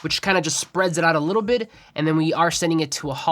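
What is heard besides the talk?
No everyday noises stand out.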